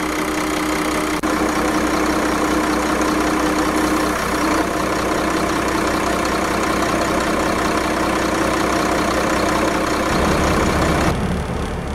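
The diesel engine of a 2004 Kenworth T300 truck, a Cummins ISC 8.3-liter rated at 240 horsepower, idles steadily with a deep, continuous rumble and faint mechanical clatter, unchanging throughout with no voices.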